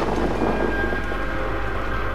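Close lightning strike and rumbling thunder in the video game Outlast 2, a heavy low roll that fills the space and fades slowly, heard alone with no voices.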